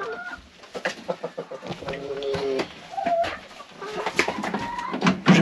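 Hens clucking in a chicken coop while laying eggs: a busy, close chorus of overlapping clucks, low murmuring coos and short rising calls, irregular and lively throughout.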